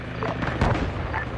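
Heavy gunfire in the military shooter Arma 3 during a night compound raid, dense booming shots and blasts packed together in a continuous loud barrage.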